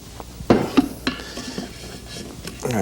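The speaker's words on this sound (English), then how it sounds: "Spoon it out onto our board here." A spoon scooping creamy pistachio burfi out of a pot onto a board, giving a few close clinks and scrapes of utensil on metal, soft and spaced out over a quiet background.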